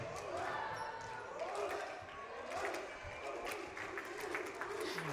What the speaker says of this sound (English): The clapping sequence that they're hoping the rest of the crowd will get involved in